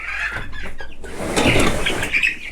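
Broiler chickens clucking inside a dark chicken house during brooding, a dense, continuous chorus of overlapping clucks and chirps from many birds, fairly loud and close, with no talking.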